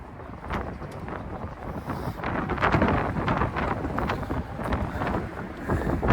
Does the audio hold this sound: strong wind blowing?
yes